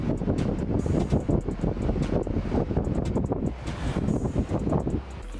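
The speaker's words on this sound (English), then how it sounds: "Some fan, honestly, this fan is so loud." A loud electric fan in a bedroom runs steadily and close, a dense whooshing roar that fills the whole clip with slight fluctuations and no speech over it.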